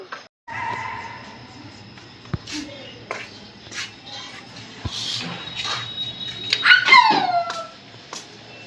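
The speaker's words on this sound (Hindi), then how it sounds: "देखो देखो ऐसे भौंकता है, इतनी तेज भौंकता है, बहुत ज्यादा।" A pet dog barks and yelps loudly indoors, a string of sharp barks rising into a howling whine, near and strong, with household background hum.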